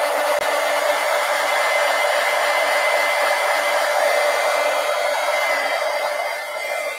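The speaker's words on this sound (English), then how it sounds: "let me dry this real quick" A hair dryer blows steadily on a coloring book page from a mermaid adult coloring book, giving a loud, constant whooshing whine that runs the whole time and dips slightly at the end.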